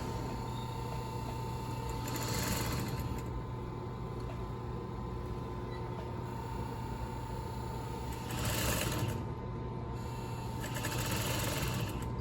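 A sewing machine runs top stitching along a garment lining, a steady fast mechanical whir with rhythmic needle ticking, swelling in a few short bursts as the stitching speeds up, close and clear with no talking.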